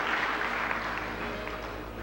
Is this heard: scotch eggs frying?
no